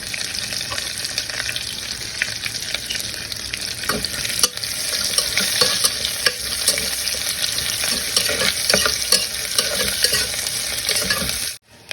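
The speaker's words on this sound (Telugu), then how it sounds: "ఇది కొంచెం బ్రౌన్ కలర్ వచ్చేంత వరకు మనం వేయించుకోవాలి" Sliced onion frying in a pressure cooker: a steady, bright sizzle runs throughout, growing louder midway, with occasional stirring clinks, close and without talk.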